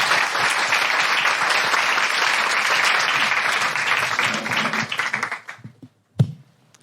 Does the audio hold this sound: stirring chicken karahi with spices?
no